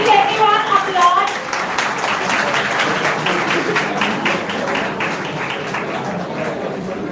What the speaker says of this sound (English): Please everyone applaud.